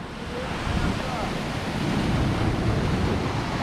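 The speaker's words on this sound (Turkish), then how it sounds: "Dev dalgalara rağmen yılmadı, yıkılmadı ayakta." Big sea waves break on the shore during a fishing camp trip, producing a continuous loud surf roar that swells slightly and never lets up.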